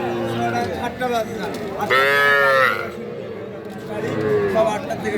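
Cattle, including young heifer calves, at a village livestock market: a loud drawn-out moo near the middle, with fainter lowing around it over a steady background of crowd chatter and talk.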